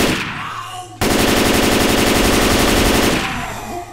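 Sustained automatic gunfire from Left 4 Dead 2 bursts in loudly after a second and rattles on in a dense, rapid stream for about two seconds before tapering off.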